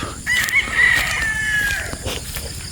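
A rooster at a chicken farm crows once, loud and close, against a low background of farm noise.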